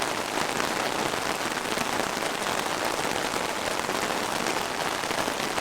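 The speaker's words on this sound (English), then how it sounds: "You can't even see the sky because the rain is so heavy at the moment." Heavy rain pouring down at Disney's Animal Kingdom theme park, a loud, dense, steady hiss of drops hitting surfaces that fills the whole clip without letup.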